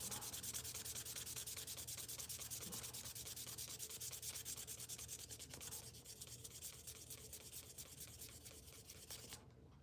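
Steady close rubbing rasp of sandpaper working over a wood carving wetted with oil, continuous back-and-forth strokes with even loudness that ease slightly toward the end, no voices.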